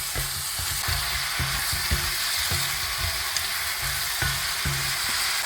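Veal stir-fry with chili flakes, garlic flakes and black pepper sizzles loudly in a hot pan, a dense continuous frying hiss broken by repeated scraping thumps as it is tossed.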